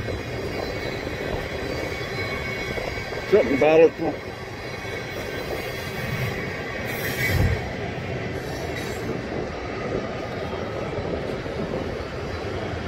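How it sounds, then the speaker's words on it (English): A CSX freight train rumbles steadily past with a brief metallic wheel squeal, heard from a moderate distance in Ohio, while someone speaks briefly over the noise. "Ethanol trains, maybe."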